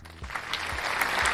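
Canned applause rises after a quiet start and swells into steady clapping to the end, with faint thumps beneath.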